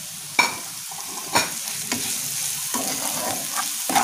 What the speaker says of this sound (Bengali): আরও একটু ভালো করে এটা আমরা ভেজে নেব।